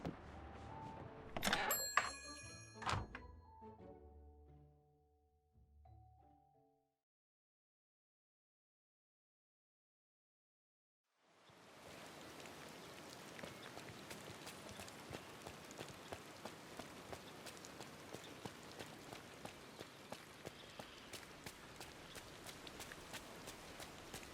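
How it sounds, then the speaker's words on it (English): Steady rain patters down continuously and fairly close, starting after a few short clattering sounds and a stretch of silence, with no talking over it. "I'm so glad that it's raining right now"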